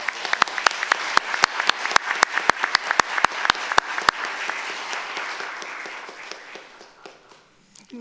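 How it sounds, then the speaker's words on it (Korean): A church congregation applauds at a retirement ceremony, individual claps sharp and distinct at first, then blending into a softer wash that fades away near the end. "큰 박수로"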